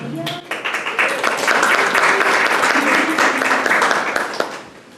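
Audience applause at a breast health event, brisk clapping that swells quickly after a brief voice and holds steady for several seconds before tapering.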